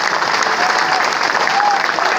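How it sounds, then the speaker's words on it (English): Loud, dense audience applause for former footballer Gary Mabbutt fills a live talk-show evening, a steady sustained roar of clapping with crowd noise throughout. "Can we please have the biggest round of applause ever?"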